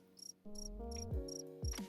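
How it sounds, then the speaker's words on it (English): A cricket chirps inside a cage held up close, its high pulsed trills repeating in steady bursts, with other low tonal sounds and music underneath. "They listened to the new cricket singing."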